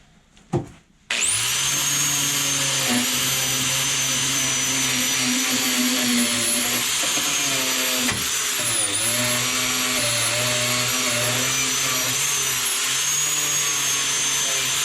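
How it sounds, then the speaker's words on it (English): A grinder whines steadily and loudly on a Nissan S14 240SX rear subframe bushing, clearing off leftover rubber. It starts abruptly after a brief quiet moment and runs continuously near the mic with slight pitch dips under load. "I could probably just clean that up really quickly with a grinder or something."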